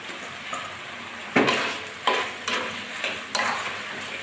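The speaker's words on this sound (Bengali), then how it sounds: "সমস্ত মশলা আমি ভালো করে কষিয়ে নেব" Garlic, chopped onions and spices fry in a hot pan while a spatula stirs them, a steady sizzle broken by several sharp scraping strokes against the metal.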